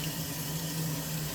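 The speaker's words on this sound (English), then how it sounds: "cold water will be used to rinse the cabbage till the end in order to stop the process of cooking" Cold tap water running to rinse cooked cabbage, a steady close stream hissing and splashing with a low hum underneath, brief and without voices.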